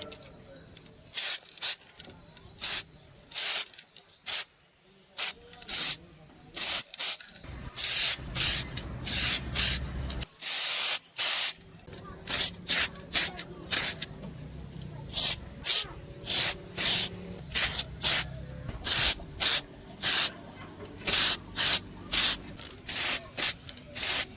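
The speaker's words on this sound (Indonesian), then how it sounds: "semprot juga di bagian sini, di bagian yang sulit kita jangkau" Repeated bursts of spray paint from a spray can or gun coating a motorcycle wheel rim in anodized grey, short hissing blasts in an uneven rhythm, close and loud, with faint handling noise between sprays.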